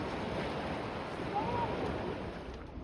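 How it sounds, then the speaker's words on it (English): River rapids churn beneath a kayak on a Bowron Lakes paddling trip, a steady, close rushing roar of turbulent water that continues unbroken, with no talking. "Those rapids were unexpected."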